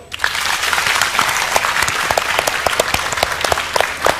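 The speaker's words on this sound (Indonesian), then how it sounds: "beri tepuk tangan untuk Joe." Studio audience applause on an Indonesian television health talk show: dense, loud clapping with sharp individual claps standing out, continuous throughout with no talking.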